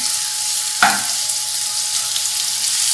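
Chopped ripe banana (ethapazham) sautéing with cashews and raisins in a pan for Kerala-style aval sukhiyan, a steady close sizzle with one brief scrape of stirring.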